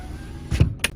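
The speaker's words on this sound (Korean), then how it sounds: "접이식 사이드 미러," The power-folding side mirrors on a Kia Sportage R whir briefly in two short motor bursts, close and fairly quiet inside the parked SUV.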